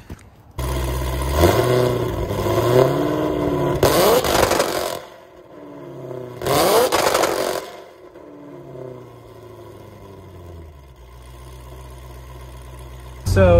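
Boosted Pontiac GTO with an LS2 V8 revving on a test drive, loud engine surging through repeated rising pulls and drops with a couple of sharp blips, recorded up close.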